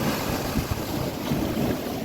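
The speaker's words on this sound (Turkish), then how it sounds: "Aşırı dalgalı." Heavy sea surf churning steadily, with low rumbling swells and wind buffeting the microphone; no voices.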